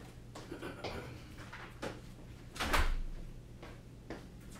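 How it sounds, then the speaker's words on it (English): An indoor door swings shut with one soft, muffled thud midway through, set against a low steady hum with faint scattered knocks and shuffles around it. "Let me close this door real quick."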